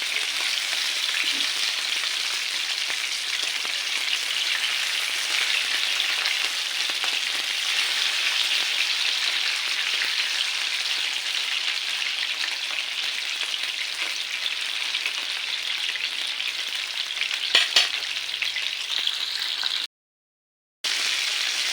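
Fish fries in green masala in a pan with a loud, steady, close sizzle and crackle that runs unbroken, apart from one short silent gap near the end.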